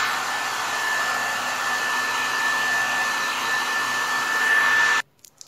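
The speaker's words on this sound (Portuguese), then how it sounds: "eu vou secar, tá bom? Com um secador ou soprador." A hair dryer or heat blower runs steadily as it dries a transparent garden-flower decorative sticker, giving a constant close whir with a high whine for about five seconds before cutting off abruptly into a few handling knocks.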